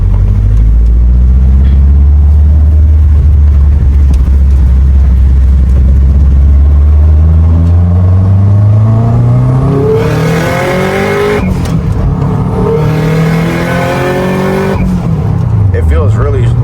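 A tuned Subaru's engine droning steadily while driving, rising in pitch as it accelerates, loud and close from inside the cabin with people talking over it.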